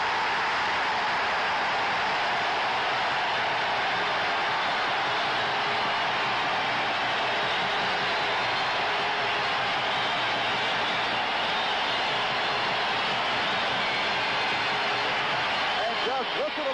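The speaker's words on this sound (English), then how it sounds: "Listen to that crowd." Roaring crowd at a 1977 Avco Cup hockey game between the Quebec Nordiques and Winnipeg Jets right after a goal, a loud continuous wash of cheering that holds steady for the whole stretch.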